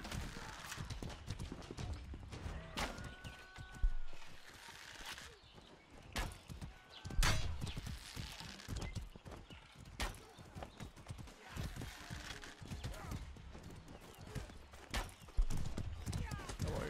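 Horse hooves clip-clopping in the medieval combat game Mordhau, irregular clattering strikes mixed with sharp impacts and a possible whinny, heard under intermittent talk.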